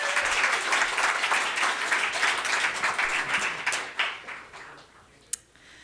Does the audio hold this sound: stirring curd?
no